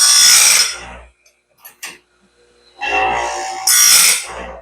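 Grinding on the tooth of a Norwood Stellicut sawmill band blade: two loud, harsh bursts of abrasive grinding separated by a pause with a few light scrapes and clicks, close up with no talking.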